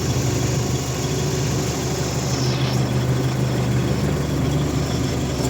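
A Skaut 404 tractor engine idles steadily while warming up in cold weather, a loud, close, even diesel rumble that holds without change and has no voices over it.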